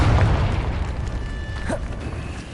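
A Confringo blasting spell goes off in Hogwarts Legacy on PlayStation 4 Pro, a low booming burst at the start followed by a rumbling decay and a brief magical whoosh near the end, alone without talk.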